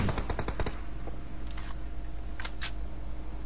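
Gunfire in a team video game match opens with a rapid burst of shots, followed by a few isolated single shots over a steady low background drone, with no speech.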